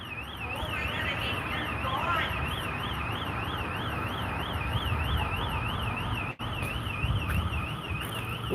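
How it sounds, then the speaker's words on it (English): Alarms blare at a bank after a break-in: a continuous warbling electronic siren that rises and falls in a fast, steady cycle over a constant background rumble, going without a break. "These are just alarms going off."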